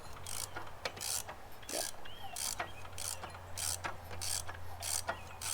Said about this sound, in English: Let's throw this thing on the ratchet.